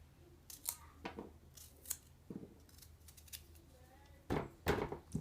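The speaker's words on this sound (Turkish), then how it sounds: "Bu şekilde kesiyorum." Gherkins being cut for pickles, a series of sharp, irregular snips and crunches close up, quiet between cuts, with a busier cluster near the end.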